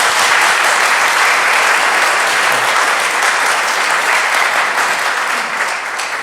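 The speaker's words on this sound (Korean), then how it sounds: "박수 한번 해주시죠" A church congregation at a Tuesday prayer meeting claps after praise songs, loud sustained applause from many hands holding evenly throughout.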